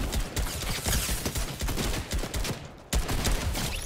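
Rapid enemy gunfire in a battle-royale video game, dense bursts of overlapping shots crackling continuously with a brief dip before a sharp renewed volley.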